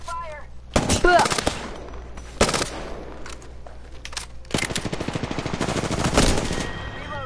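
Bursts of video game gunfire crack out in several volleys, the longest a sustained automatic stream near the end, with a game voice speaking briefly between shots.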